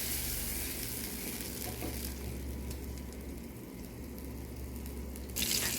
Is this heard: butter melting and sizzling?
yes